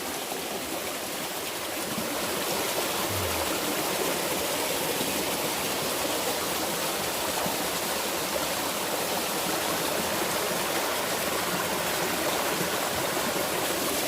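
A clear mountain valley stream flows steadily in a clean, forested highland spot, its broadband rushing wash continuous and close throughout with no voices.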